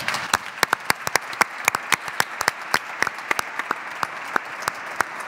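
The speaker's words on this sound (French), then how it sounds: "Je vous propose, mesdames et messieurs, d'applaudir bien fort Jean-Luc Moudinque." An audience applauds Jean-Luc Moudinque at a real estate event in Toulouse, with close, irregular individual claps standing out over a lighter spread of clapping that keeps going throughout.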